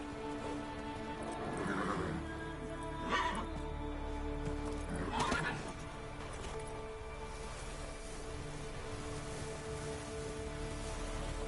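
Roach, a horse in The Witcher 3, neighs and whinnies in a few loud bursts over steady galloping hoofbeats, then the hooves carry on alone against a low ambient game hum.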